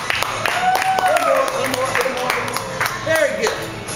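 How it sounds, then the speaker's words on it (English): Restaurant diners clap for a young man on his 18th birthday, a light scattered round of hand claps mixed with lively crowd chatter and voices talking over it. "Can we get a little round of applause for the young man on his 18th?"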